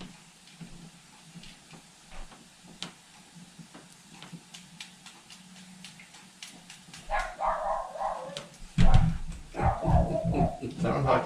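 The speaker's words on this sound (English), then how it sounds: "Sounds like the mailman's here and the dog doesn't like that." A dog barks at a mail carrier, sharp repeated barks sounding somewhat distant at first over a low hum, then growing louder and denser in a closer burst of barking toward the end.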